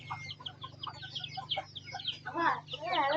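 Chickens cluck and call repeatedly at close range in a rural village in southern Laos, with a steady low hum running underneath and livelier bursts toward the end.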